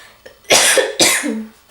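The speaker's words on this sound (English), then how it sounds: "I've been coughing so much" Two harsh coughs in quick succession, close and loud, with a short breathy onset before the first.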